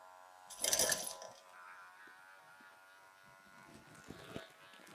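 Electric clippers run on a Schnauzer during a commercial grooming session, a steady buzzing hum with a louder burst of contact noise early on, then quieter buzzing with brief scraping clicks.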